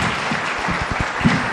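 Audience applause for candidates at a forum event, a steady dense wash of clapping from a crowd that holds throughout the short stretch with no talk over it.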